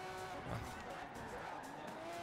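A Ferrari 599's naturally aspirated V12 roars at high revs in a continuous, buzzing whine in Forza Horizon 4, with tire noise underneath and no pauses.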